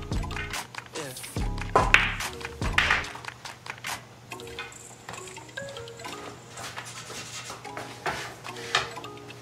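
Pool balls in a game of 10-ball click together in a few sharp, close knocks, with a cue strike and a ball dropping into a pocket, over a low steady room hum.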